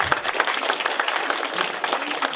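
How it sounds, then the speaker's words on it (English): A room of participants claps together in a quick round of applause during a group session, dense and even from start to finish, fairly loud and close. "Give them a round of applause."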